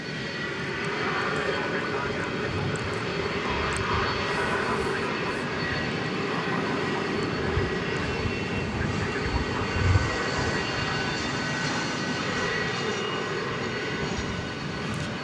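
Aircraft engines at Dallas Fort Worth (DFW) Airport at night make a steady, broad roar that holds for the whole stretch without fading, with faint talk underneath.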